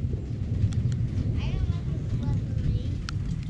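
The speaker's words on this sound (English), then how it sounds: "Thunder. I like the thunder." Thunder during a rainstorm rumbles as a low, continuous roll under a steady wash of rain at an outdoor deck build, with people talking faintly nearby.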